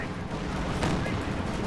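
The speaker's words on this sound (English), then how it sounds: "Oh, the mortars are coming in." Mortar shells land in a Company of Heroes 2 battle, a dense, continuous rumble of blasts and gunfire with no clear gaps between impacts.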